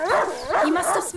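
A dog in the video game A Plague Tale: Innocence gives a few close, loud yipping barks in quick succession, with voices talking over and between them.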